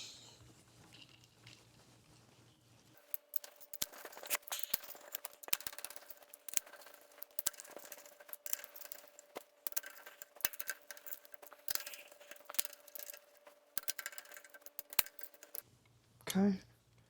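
Ratcheting and clicking of hand tools on cylinder head bolts of a rebuilt 300 inline-six engine in a garage, irregular sharp clicks and taps over a steady hum for most of the stretch.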